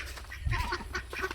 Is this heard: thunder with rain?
no